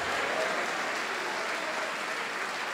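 A church congregation claps steadily in dense, sustained applause that stays at an even level throughout, with no distinct voices.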